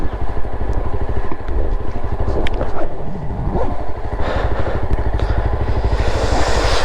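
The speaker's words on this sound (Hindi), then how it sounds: "बाइक खटर खटर खटर खटर कर रही है" A motorcycle being ridden in cold, snowy mountain country near Auli runs with a steady engine drone and a rapid clattering rattle, loud and close, with a few louder knocks and shifts in tone midway.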